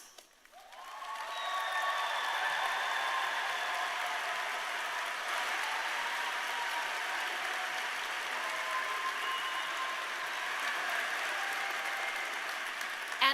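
A large commencement crowd applauds Honors College graduates at a university ceremony, a steady wash of clapping that swells in after a moment and holds evenly for over ten seconds, distant and hall-like, with no voices on top.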